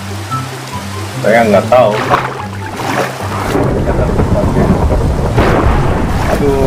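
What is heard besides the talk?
rain falling at night in video game Minecraft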